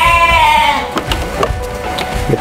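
A breeding sheep lets out a loud, close bleat inside a pen, followed by faint shuffling, knocks and rustling from the animals around.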